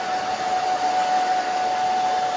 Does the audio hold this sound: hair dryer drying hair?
yes